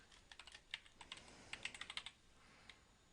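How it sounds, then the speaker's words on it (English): A computer keyboard clicks out a single word, a close, quiet burst of rapid keystrokes in quick clusters, then a last lone tap after a short pause, with no voices. "I'm going to go back and see if I can actually type in the word prophase"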